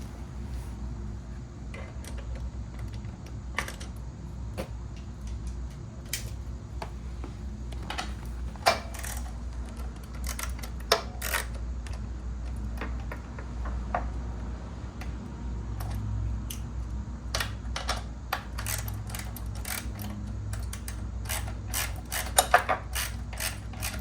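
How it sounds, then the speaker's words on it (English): Wrench tightening nuts on a Can-Am Ryker wheel: scattered sharp metallic clicks and ratcheting ticks, close and fairly quiet, over a low steady background hum. "I'm going to use a wrench on one side to hold this nut in place while I'm tightening the other one."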